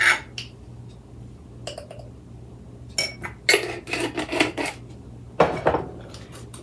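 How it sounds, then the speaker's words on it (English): Metal measuring spoons clink against a little bowl while salt and baking soda are spooned in, giving scattered light taps and scrapes with brief pauses, close and fairly quiet over a faint steady hum. "in a little bowl, we're going to put 2 teaspoons of salt, and 1 teaspoon of baking soda"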